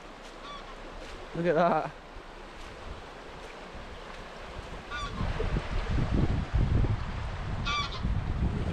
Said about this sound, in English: Big goose flying over.